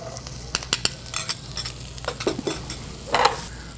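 Garlic and chopped red onion fry in melted butter in a pan for a cavatelli dish, sizzling softly under sharp clicks and scrapes of a utensil stirring against the pan.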